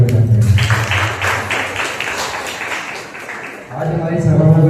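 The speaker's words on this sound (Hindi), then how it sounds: "आइए परमेश्वर के लिए एक जोरदार तालियां बजाते हैं।" A church congregation at a Sunday service breaks into loud, sustained clapping for a few seconds. A voice speaks just before and after the applause.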